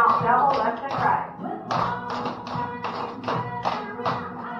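Rhythmic tap-dance stomps and double steps alternating left and right, a steady series of sharp heel and toe hits, as in a basic-level line or tap routine set to faster country Christmas music playing underneath.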